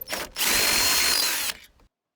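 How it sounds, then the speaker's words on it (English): A power drill with a 5/16 bit opens out door hinge pin holes on a 2003 Nissan Navara D22 hinge clamped in a vise, giving one steady, loud whirring run of about a second after a brief start, then stopping. "Just get a 5/16 drill bit."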